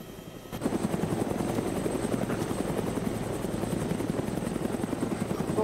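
Military helicopter in a combat video game, its rotor thumping in a fast steady beat with a loud engine drone that starts abruptly after a brief quieter moment, then holds close and constant.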